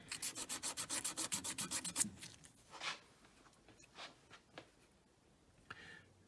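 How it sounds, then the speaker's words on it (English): A ring's beveled edge is sanded with 220 emery, first in a quick run of about a dozen rhythmic, close rubbing strokes, then a few slower, scattered scrapes. "sand the beveled area, so I'm going to sand the edge there"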